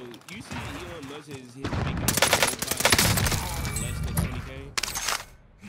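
Gunfire in the shooter Warzone: rapid bursts of shots crack close and loud, overlapping into a fusillade through the middle, with a voice speaking briefly before the shooting starts.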